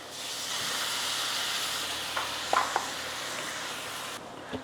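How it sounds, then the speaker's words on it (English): Cognac poured into a hot pan for deglazing gives a steady broadband hiss of steam and sizzle, with a few short crackles near the end before it dies away. "Now we're gonna deglaze with a little bit of cognac"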